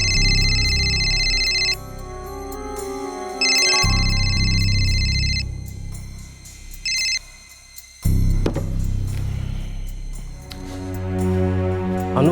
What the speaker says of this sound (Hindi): अनु फ़ोन बार बार कट कर रही है अप्पा।